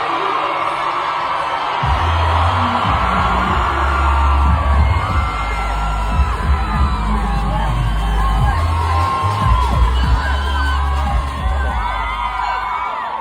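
Fans at the British Grand Prix cheer and whoop after the race, a loud, sustained roar of yelling and shouting from a large crowd with rising bursts, broad and continuous throughout.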